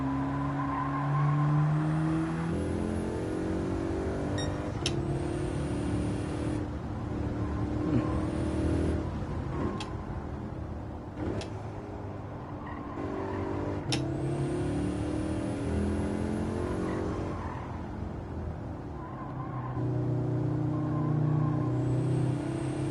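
A VW race car in Gran Turismo 7 with a strong engine and steady revving drone, rising and falling through gear changes, with intermittent tire squeal and brief skids over a continuous run.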